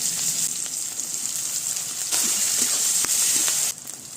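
Bay leaf, dry red chilli, whole cumin, whole garam masala, crushed garlic and chopped onion frying in hot oil, a loud, steady crackling sizzle with a few sharp pops, easing slightly near the end.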